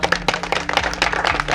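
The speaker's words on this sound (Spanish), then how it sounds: "Venga el aplauso" A small crowd applauds at a public gathering, with scattered, uneven claps rising and falling over a brief stretch, fairly close and loud.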